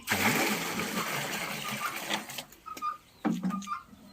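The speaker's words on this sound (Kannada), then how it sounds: "ನೀರು ಈಗ ನೀರು ಹಾಕೋಣ" Water is poured over arecanut seeds in a steady, close, rushing splash that fades after a couple of seconds, followed by a few scattered knocks and light clunks.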